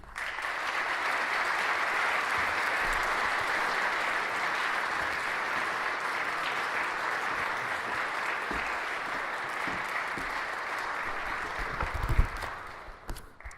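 An audience at the 2016 Meyer Lecture at St. Mary's applauds steadily to welcome the speaker, a dense sustained wash of clapping that fades out near the end.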